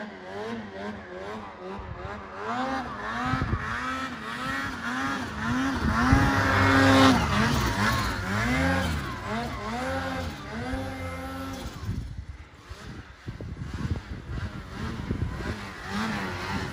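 Ski-Doo 850 E-TEC Turbo snowmobile being ridden in the mountains, its two-stroke engine revving up and down in repeated surges, loudest midway, then easing off.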